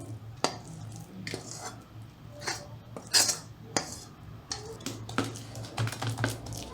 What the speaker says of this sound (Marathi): आता आपण तूप लावलेल्या ताटात मिक्सचर ओतून घेऊ